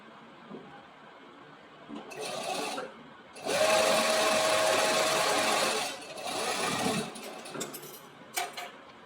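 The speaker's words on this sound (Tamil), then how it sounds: "ப்ளேஸ் பண்ணி இங்கே டாப் ஸ்டிச் போட போகிறோம்." Sewing machine stitching a top stitch on a lapped seam, heard in bursts: a short run, then a longer steady whirring stretch, and another run before it stops, with light handling sounds between.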